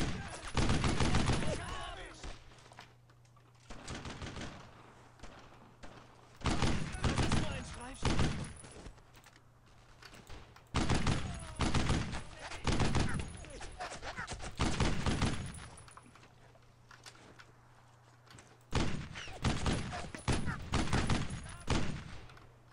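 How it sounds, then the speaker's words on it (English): Loud, close bursts of rapid automatic gunfire from the World War II shooter Brothers in Arms: Road to Hill 30, coming in repeated long volleys separated by short lulls. "Stop shooting me! I can't shoot you. Keep shooting!"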